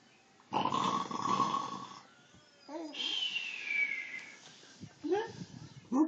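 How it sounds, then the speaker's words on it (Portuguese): A woman snoring playfully: a few drawn-out nasal snorts with gaps between them, moderately close, and people talking nearby. "Ó a mamãe roncando, ó."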